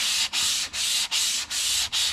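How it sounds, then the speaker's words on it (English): Wood is hand-sanded with fine 240 grit sandpaper in six quick, even back-and-forth strokes, a close, steady scratchy rasp with short gaps between passes. "I'm just using some 240 grit sandpaper, something smooth"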